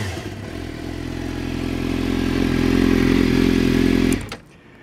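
A 2008 Suzuki GSX-R600 sport bike engine revs hard. The close, loud rev climbs steadily for about four seconds, then drops sharply back toward idle.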